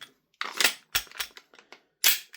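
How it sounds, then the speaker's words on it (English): A Cybergun Canik SFX Rival gas blowback airsoft pistol fires four shots, each a sharp close crack with a clattering slide cycle, spaced unevenly with brief silences between them. "Shoot a couple more rounds through it."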